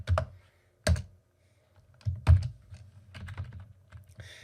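Computer keyboard typing while editing a file in the Vim editor during Linux node setup: a few sharp isolated keystrokes followed by a denser run of clicks, close and fairly quiet, with no talking.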